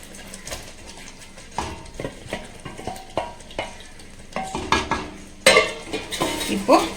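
A spoon stirs paneer and capsicum through butter gravy in a large nonstick kadai, with repeated scraping strokes and soft sizzling that grow louder and busier toward the end.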